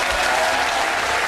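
A studio audience applauds steadily on a British comedy show, a dense, even wash of many hands clapping with no voices over it.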